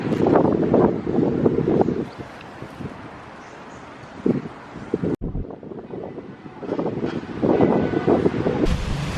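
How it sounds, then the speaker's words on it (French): Strong wind buffets the microphone outdoors in Hobart, Tasmania on a cold evening, a steady loud roar with gusty surges, a brief cut in the middle, then more blustering. "Parce qu'il y a beaucoup de vent"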